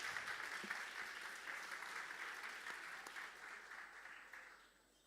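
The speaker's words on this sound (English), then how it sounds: "let's give her a big round of applause" Applause from an audience at a school English Day event fills the hall as a second-grade student is invited to the stage. It is a dense, continuous wash of clapping that stays steady, then tapers off at the end.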